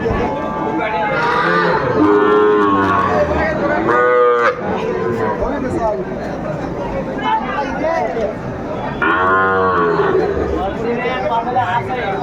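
Cattle moo loudly and repeatedly at a busy livestock market in Pabna, with long calls rising over steady crowd chatter and voices close by.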